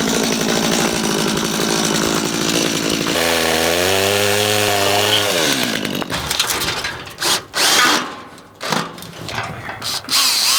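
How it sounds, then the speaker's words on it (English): A loud chainsaw roars, dropping into a steady idling drone, then revs and bites through wood in uneven bursts while trimming fencing for horse paddocks on a homestead. "I'm gonna get my chainsaw, I'm gonna lob this little bit off"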